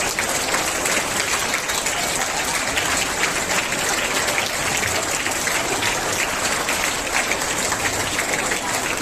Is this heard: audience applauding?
yes